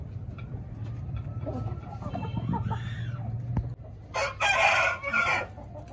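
Backyard home-bred chickens cluck softly and low under a faint background hum, then a rooster crows loudly and close by near the end.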